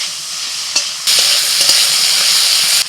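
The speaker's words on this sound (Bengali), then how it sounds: "আলু পেঁয়াজ ভেজে নিয়ে দিয়ে দিচ্ছি টমেটো কুচি, লবণ," Potatoes, onions, chopped tomato, salt and turmeric frying and being stirred in a pan, a loud close sizzle that jumps louder partway through, with faint scraping stirs and no voices.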